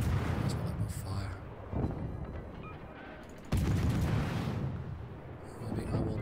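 Enemy warship guns firing in a naval combat video game, heard as heavy, rumbling booms over a dense, continuous roar of battle noise, with two stronger blasts standing out.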